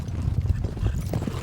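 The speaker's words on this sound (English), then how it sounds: "In the morning, wranglers drive in the horses, then work in the corral" Horses being driven in by wranglers at a ranch horse drive, a close, loud patter of many hooves clip-clopping in an uneven, running rhythm.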